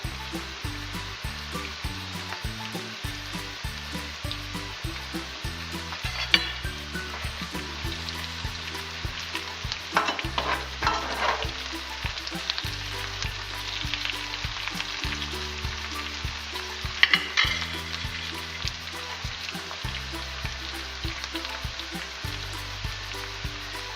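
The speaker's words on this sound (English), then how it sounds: "So just continue frying those up until they're all the way crispy." Potatoes frying in a pan with rosemary, a constant crackling sizzle, occasional stirring scrapes, and no voices.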